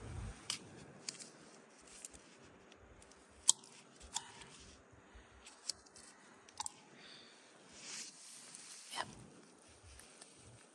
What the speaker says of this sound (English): let's try to cut this apple